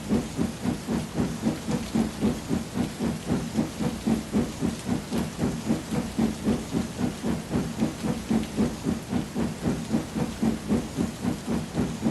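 Steady rain and rumbling thunder from a thunderstorm fill the scene as a story sound effect, a dense, continuous wash with a rhythmic pulsing beneath it and no voices.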